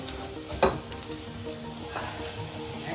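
Rice frying in ghee in a pot, sizzling steadily and close up, with a louder burst of sizzle early on as it is stirred.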